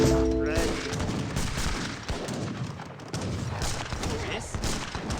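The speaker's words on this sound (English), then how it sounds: "Grenadiers throwing their grenades" Grenadiers hurl grenades in an Age of Empires 3 battle, a dense, continuous clatter of explosions and gunfire that booms and crackles at a fairly loud level throughout.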